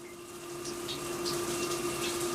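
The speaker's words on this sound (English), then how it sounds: "water's coming out of all of them this time" Water sprays steadily from a freshly cleaned shower head, a continuous even hiss of spray with a faint pump-like hum underneath and no talking.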